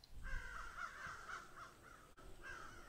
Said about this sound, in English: Oh, a bird.